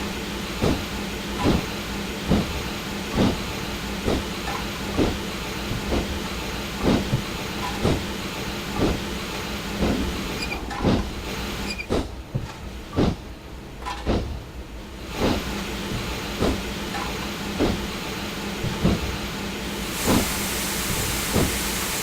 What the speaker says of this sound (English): That sounds like the sander.